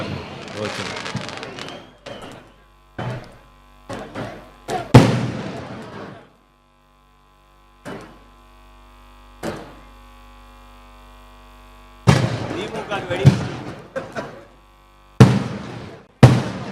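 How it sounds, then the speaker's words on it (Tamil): Firecrackers burst in sharp, loud bangs at a Tamil political campaign gathering, scattered bursts then a quiet stretch before another cluster of cracks, with a steady hum underneath and voices in the crowd. "இது திமுகவுக்கு வைக்கிற வெடியா நமக்கு வைக்கிற வெடியான்னு தெரியல"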